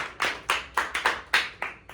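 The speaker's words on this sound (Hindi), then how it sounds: "श्री मिथिलेश कुमार पांडे जी के लिए जोरदार तालियां" Audience at a staged Hindi play applauds the director in about eight distinct bursts of clapping, spaced roughly a quarter second apart, fairly close and clear with no talk over it.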